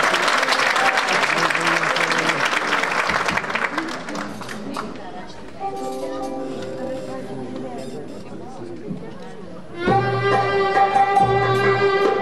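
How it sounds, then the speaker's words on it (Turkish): Loud audience applause fills a Turkish classical music concert hall at a municipal New Year concert, dense clapping fading after a few seconds as instruments begin tuning and playing, then music swells in. "Alkışlarınızla."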